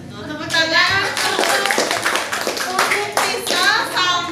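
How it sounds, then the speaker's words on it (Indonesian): A classroom of students bursts into clapping, a dense burst of many hands that holds steady for a few seconds, with children's voices mixed in. "Tepuk tangan"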